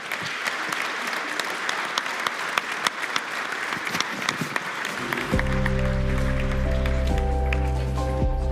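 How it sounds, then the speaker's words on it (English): A panel on mobilising private capital gets a steady round of audience applause, dense clapping throughout, joined midway by a low sustained musical tone. "Let's give the panel a round of applause"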